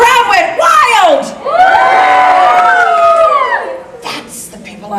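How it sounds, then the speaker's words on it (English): A crowd at an Epcot Hanukkah storytelling show whoops and cheers wildly, with loud, rising and falling shouts that ebb away after a few seconds. "The crowd went wild."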